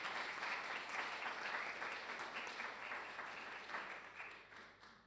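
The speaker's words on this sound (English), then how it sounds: "So if we can just give Ballam a round of applause" Sustained audience applause at a FOPA 2025 event, a dense steady patter of many hands that holds fairly even and then tapers slightly toward the end, with no talking over it.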